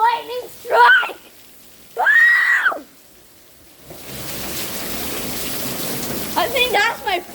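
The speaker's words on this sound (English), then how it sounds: "look at all this rain" Heavy rain pours down in a strong-wind storm with lightning, a dense, steady roar of rainfall filling the later seconds after excited shouting, with a voice rising over it again near the end.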